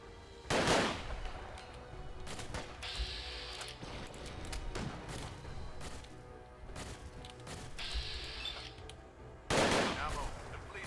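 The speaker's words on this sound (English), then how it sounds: "Who else is shooting at me?" Fallout 4 combat gunfire crackles in repeated bursts, with sharp loud shots and impacts standing out at the start and near the end over a busy, rattling stretch of fire.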